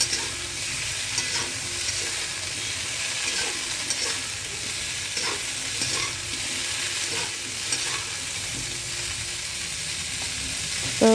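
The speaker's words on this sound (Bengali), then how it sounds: "এই যে ফুলকপিগুলো এবার ভালো করে ভেজে নিচ্ছি" Cauliflower pieces fry in hot oil in a pan, a continuous sizzle with repeated stirring scrapes and clinks over several seconds, close by and with no voices.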